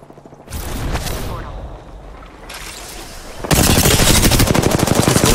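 Rapid automatic gunfire in an Apex Legends match, loud and close with bursts of shots, intensifying into a sustained, dense volley near the end; a voice speaks briefly over the earlier shooting.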